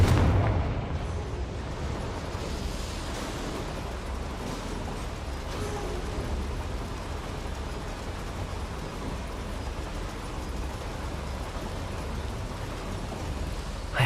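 Confringo fire spells burst in Hogwarts Legacy gameplay, making a dense, loud, continuous roaring rumble that barely changes across the whole stretch, with no distinct individual blasts.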